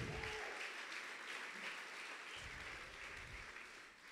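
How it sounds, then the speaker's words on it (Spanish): Applause from a church congregation during a Spanish-language discipleship service, a moderate even patter of many hands that fades slightly toward the end. "Dale un aplauso al Señor"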